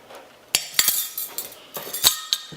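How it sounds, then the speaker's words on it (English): A metal whisk clinks against a bowl while olive oil is beaten into a bread dough mixture, giving a handful of sharp, close, irregular taps and light scrapes. "And whisk that together."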